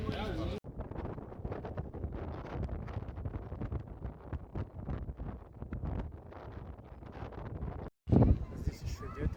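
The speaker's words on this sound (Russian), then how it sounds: "Здесь еще ветренее, чем внизу." Strong gusty wind buffets the microphone in roaring bursts, with a brief dropout near the end.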